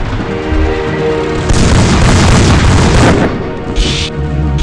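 Artillery fire in the War of the Worlds strategy game booms loudly in a heavy, continuous barrage of explosions, with a sustained rumbling roar and crackling bursts piling over one another.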